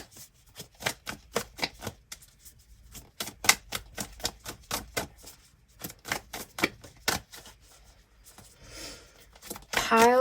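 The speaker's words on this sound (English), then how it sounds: "Let's pull your final card." A tarot card is pulled from the deck during a Halloween card reading: a long run of crisp, close, rhythmic card flicks and snaps, with a brief papery rustle near the end.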